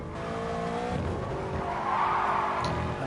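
Race car tyres squealing as the car oversteers out of a corner in an IGTL GR3 racing video game, a loud drawn-out skid over a revving engine, swelling toward the end.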